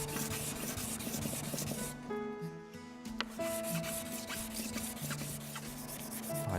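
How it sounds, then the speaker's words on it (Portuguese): Wood being sanded by hand with fine sandpaper for a satin finish. Close, rhythmic rubbing strokes rasp back and forth, with a brief pause midway, faint and with no talking. "agora vai ficar um toque bem acetinado com essa lixa"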